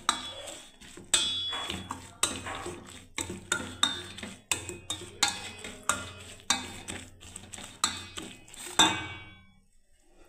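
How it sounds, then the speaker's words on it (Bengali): A whisk or spoon beats mung dal batter with water in a bowl for chilla, producing a run of sharp, rhythmic clinks and taps against the bowl, close and fairly quiet, then stopping near the end. "মুগ ডালের চিল্লা বানাবার জন্য জল দিয়ে এবার আমি ভালো করে বেশ ফেটিয়ে নেবো"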